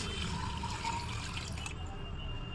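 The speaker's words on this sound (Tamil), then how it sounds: "இப்போ நம்ம தண்ணி ஊற்றிக்கலாம் ஃப்ரெண்ட்ஸ்." Water poured steadily into a pot of chicken biryani, a gurgling splashing stream that cuts off sharply near the end.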